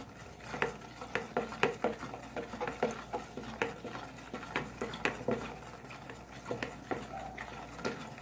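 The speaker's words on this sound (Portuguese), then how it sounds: "Eu vou misturar." A glycolic extract of barbatimão steeped in alcohol being stirred for soap-making, producing repeated light clinks and scrapes of a utensil against a container in an irregular rhythm, close by and without voices.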